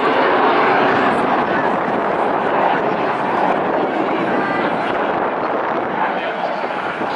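Aerobatic display aircraft roar overhead at an air show, a continuous loud broadband rush of engine noise with wind buffeting the microphone, while a commentator talks over it.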